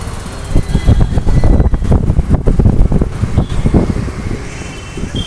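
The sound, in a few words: Royal Enfield Bullet motorcycle engine riding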